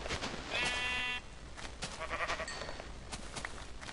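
Minecraft sheep bleat a few times in a video game, a short wavering baa early on and more fainter bleats later over steady background game noise, with no talk.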